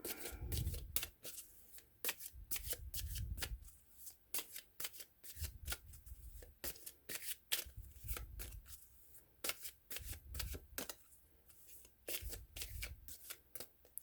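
A deck of cards, likely tarot, being shuffled by hand in repeated close riffles and soft slaps with short gaps between them over about fourteen seconds, fairly quiet, with no voices.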